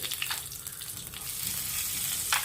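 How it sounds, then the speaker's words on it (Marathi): Cumin and asafoetida sizzling in hot oil, a close, bright continuous crackle with brief spitting bursts, no talk over it. "तेल तापलेलं आहे मी याच्या जिरं घालते हिंग घातला"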